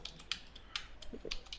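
Keys clack on a computer keyboard while a command is entered in a Linux terminal, with a few sharp, close taps spaced irregularly across a short stretch.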